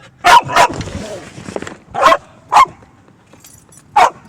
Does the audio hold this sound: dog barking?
yes